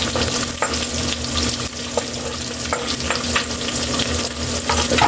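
White onion fries in a pan for pork pata adobo, with a loud, dense sizzle throughout and repeated scraping and clacking from stirring.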